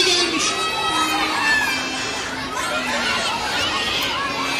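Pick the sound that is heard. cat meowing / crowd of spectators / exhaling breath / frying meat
crowd of spectators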